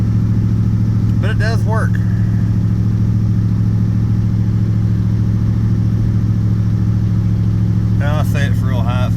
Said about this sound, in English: The idle's real high on that fast idle